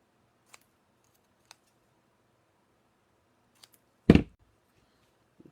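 One short, sharp cut through card paper, a single crisp snip in a quiet room, preceded by a few faint light taps.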